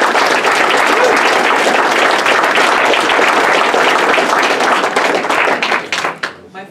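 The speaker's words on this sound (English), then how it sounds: "That's worth a round of applause." Audience at a New Hampshire political campaign event applauding loudly, close, dense clapping that holds steady and then tapers off with a few scattered claps at the end.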